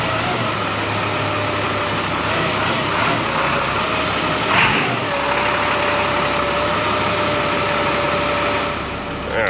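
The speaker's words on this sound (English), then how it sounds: "Engaging air brakes and powering down." A CAT 3126 diesel truck engine drones steadily up close, with a brief burst near the middle, then a tone that shifts and settles into continued running.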